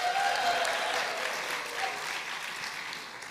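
Audience at a talk event applauding and cheering, dense clapping loudest at the start and gradually tapering, with a few whoops rising above the crowd noise.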